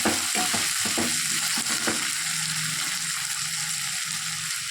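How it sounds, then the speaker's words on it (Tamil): Onion and tomato sautéing with salt in a pan for bitter gourd gravy, a steady close sizzle with a few scraping stirs early on, no talking. "நல்லா இப்போ வெங்காயம் தக்காளி வதங்கிடுச்சு"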